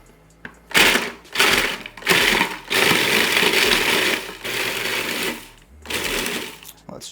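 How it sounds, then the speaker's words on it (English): A food processor pulses vegan butter into crumbs with a series of loud, close motor bursts separated by short pauses, ending in a longer continuous run. "Let's pulse it and hope we get some crumbs."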